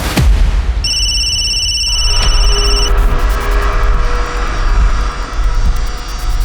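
A telephone rings loudly and close with a shrill bell tone for a couple of seconds, followed by a lower electronic ringing over a steady rumble.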